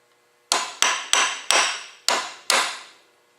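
Six sharp hammer blows strike a prototype knife made of chisel steel as a pommel is set onto the handle, each hit ringing briefly before decaying, spaced irregularly and close up with no talk.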